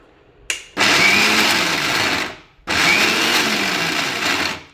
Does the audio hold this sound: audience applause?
no